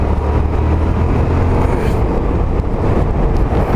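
A Yamaha XSR 700 motorcycle rides along a road, giving a loud, steady engine drone heavily mixed with rushing wind buffeting the microphone, continuous for a few seconds with no talk.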